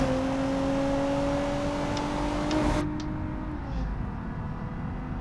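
A Ford Mondeo engine drones steadily in the BeamNG Drive driving game, a smooth, even tone that holds for a few seconds before abruptly dropping away to a quieter hum.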